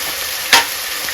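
Onion with ginger garlic paste frying in a pan for a country chicken curry, a steady soft sizzle with one brief louder burst as something is stirred or added, no talk.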